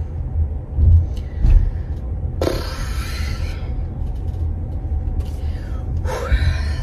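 A family car on the drive home, a low steady engine and road rumble with a few brief hissing and rattling bursts, voices speaking briefly over it.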